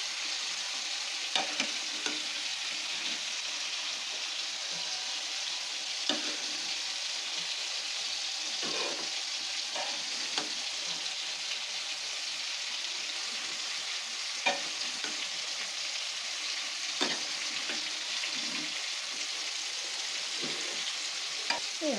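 Okra fries in mustard oil with a steady, bright sizzle, broken by frequent sharp scrapes and clicks as a spoon stirs it in the pan; the cooking sounds sit close, and nobody speaks.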